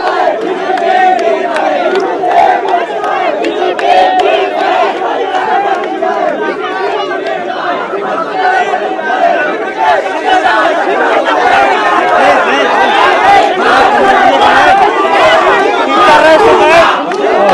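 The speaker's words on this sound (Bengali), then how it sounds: "এই মুহূর্তে বিজিবির সামনে এসে স্লোগান দিচ্ছে শিক্ষার্থীরা।" Students chant slogans in front of Border Guard Bangladesh (BGB) troops on a university campus. A loud, dense crowd of voices shouts together continuously, rising and falling in surges without pause.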